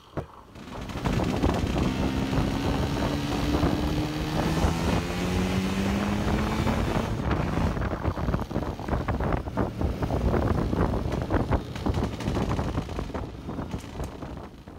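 A Vespa PX scooter fitted with a Victory exhaust runs steadily at speed, its engine drone loud and close under heavy wind buffeting, with no talking.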